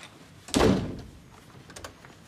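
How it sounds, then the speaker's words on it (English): A house door is pushed to and fails to shut properly, giving a single dull thunk and rattle, followed by faint background room sounds and a soft knock at the end. "Why doesn't this door shut properly?"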